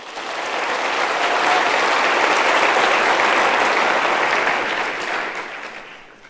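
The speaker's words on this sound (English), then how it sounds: "A round of applause to you." A graduation ceremony audience for engineering graduates breaks into sustained applause, dense and loud, swelling in quickly, holding steady for several seconds and then easing off slightly at the end, with no voices over it.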